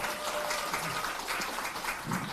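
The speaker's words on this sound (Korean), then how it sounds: "조정훈 의원님께 다시 한번 뜨거운 박수 부탁드리겠습니다" A crowd applauds a lawmaker at a People Power Party real-estate policy town hall in Gyeonggi Province, a quiet, diffuse wash of clapping sustained across the moment with faint room murmur beneath.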